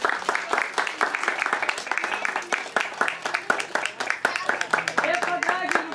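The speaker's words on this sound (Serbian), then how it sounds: "Aplauz!" An audience at a preschool graduation ceremony claps continuously in a dense, crowded patter, with voices and chatter mixed in underneath the applause.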